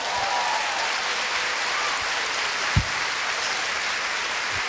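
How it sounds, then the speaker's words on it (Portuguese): A church congregation claps during a sermon, a steady, fairly even wash of applause from a crowd that goes on throughout, with one brief thump near the middle. "Agora aplaude."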